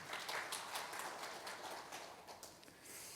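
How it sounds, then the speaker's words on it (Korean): Faint, steady applause from a conference audience after the opening address of a second tourism conference, a dense broadband patter of many hands lasting a few seconds with no voices over it. "박수 한번 주십시오"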